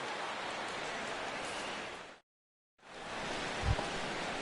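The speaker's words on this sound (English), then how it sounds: "as the rain continues to fall here" Rain falling on a baseball stadium in MLB The Show 16, a steady hissing downpour that drops out completely for a moment before resuming, with a faint low thump near the end.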